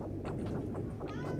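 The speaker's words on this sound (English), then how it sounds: "I'm sure you guys can hear the cat meowing" A house cat meows several times, close by and fairly quiet, against a steady low background hum.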